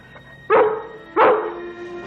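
A collie barking, two loud close barks about a second apart against quiet background hum.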